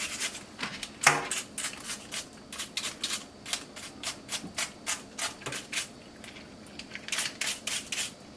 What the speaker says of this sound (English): So you scrub that off really well, getting all the nicks and crannies.